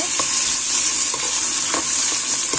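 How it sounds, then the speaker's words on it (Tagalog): Pork liver fries in a pan with a dense, continuous sizzle, broken by several soft stirring clinks and scrapes, loud and close. "i-fry muna natin ang ating pork liver"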